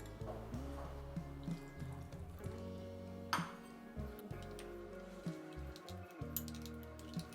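Water poured into a semolina and green peas batter, liquid trickling and sloshing with a few clinks of a utensil against the bowl, fairly quiet and close.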